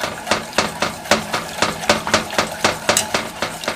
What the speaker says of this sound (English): I'm just going to give this to a whisk.